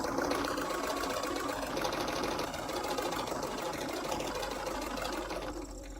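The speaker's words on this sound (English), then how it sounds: "This is just simple straight sewing." A sewing machine hums continuously through straight quilt-piece sewing, a close, rapid, even needle chatter that slows slightly near the end.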